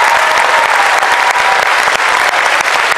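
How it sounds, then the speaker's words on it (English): A concert audience at a school spring concert applauds the eighth graders in a dense, steady wash of clapping that fills the whole stretch without a break. "Can we get one more round of applause for our eighth graders?"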